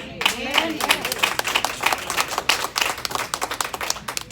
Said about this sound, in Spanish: El aplauso está flojo